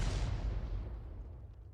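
The leFH18B2 artillery gun firing in World of Tanks, a heavy, low boom that rolls away in a fading rumble over a couple of seconds, with no talk.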